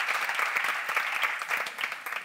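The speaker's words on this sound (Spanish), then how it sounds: "Sí, aplausos." Audience applause at a performing arts forum session, dense, even clapping that fills the room at a fairly loud level and holds steady throughout.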